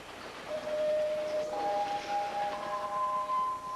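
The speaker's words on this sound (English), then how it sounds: "The train from Sydney is now arriving on track 1." A passenger train arrives at a station, with a long steady metallic wheel squeal over a low rumble that builds and holds.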